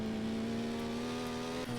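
Engine of a Tofaş Şahin drifting in the Initial Drift Online racing game, a steady loud revving tone held at high pitch with a brief dip near the end as the car slides.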